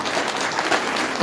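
Brief, steady clapping from a gathered audience at a Shiv Mahapuran religious discourse in a Garhwal village, a dense wash of hands lasting just over a second.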